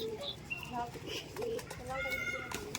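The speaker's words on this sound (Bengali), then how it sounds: "এটা দেশি পায়রা খুব পুরাতন লাইনের পায়রা" An old-line desi male pigeon coos in low rolling phrases close by, mixed with other bird calls, while a person talks over it throughout.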